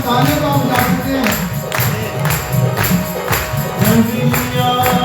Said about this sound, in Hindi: सभी हम तालियों को बजा सकते हैं।